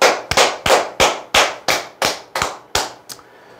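A group of people claps together in an insurance telemarketing coaching session, in eight or nine sharp, evenly spaced bursts of loud, close claps that stop after about three seconds.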